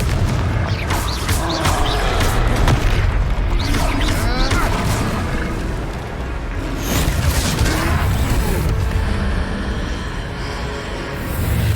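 Fiery Confringo spell blasts from the Hogwarts Legacy video game during a troll fight, heavy booming explosions crashing repeatedly and loudly across a dense, continuous battle din.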